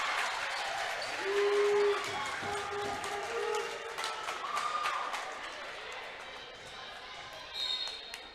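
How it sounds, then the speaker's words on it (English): Crowd applause and cheering fill a school gymnasium after a kill at a WIAA sectional final volleyball match, St Croix Falls versus Mosinee, steady and moderately loud, with squeaking shoes and a few sharp tones on top. "Saints head coach Alyssa Noterman applauds in approval on that kill"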